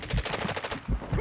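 Rapid automatic gunfire in Call of Duty: Modern Warfare II Resurgence on the Vondel map, a loud, close burst of evenly spaced shots with heavier thumps underneath.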